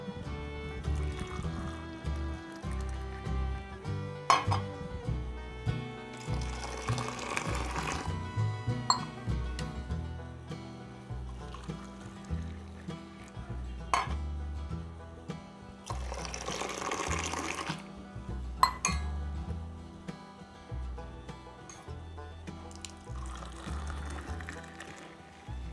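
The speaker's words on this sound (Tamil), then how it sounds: "டீயை நல்லா ஆற்றிக்கலாம்." Black tea being poured back and forth between vessels to cool it, a continuous splashing stream of liquid with recurring louder pouring bursts over a dense layer of background music, with no talking.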